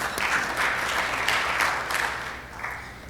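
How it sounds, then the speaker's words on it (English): Rotary club members applaud at a meeting, a moderate round of clapping from a small room that swells in a few waves and then tapers off. "I think that deserves a round of applause."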